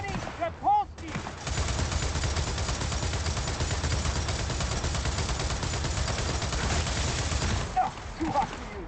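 A mounted turret in Gears of War fires a sustained, loud, dense stream of rapid shots for about seven seconds, bracketed by shouting voices before and after.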